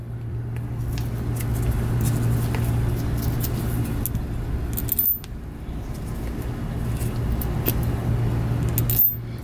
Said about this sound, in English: Another thing we're gonna do is take the caliper and install the caliper now.